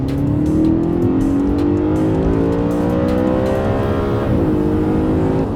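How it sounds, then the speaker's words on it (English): A loud Audi engine with a stock exhaust revs hard up through the gears, its rising, buzzy exhaust note climbing steadily with a brief dip at a shift, close and continuous, no talk. "But the engine noises and the exhaust note, even though I still haven't modified the exhaust on this thing, but it still sounds so good."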